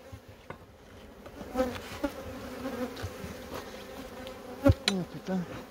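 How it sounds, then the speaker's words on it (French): A swarm of black honey bees hums steadily from a productive colony, a dense continuous buzz with individual bees flying close past the microphone and occasional louder passes near the end. "bel essaim"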